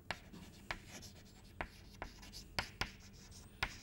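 Pen or marker strokes of math notation on a writing surface, a series of sharp taps and short scratches at an uneven rhythm, close and fairly quiet, with no talking.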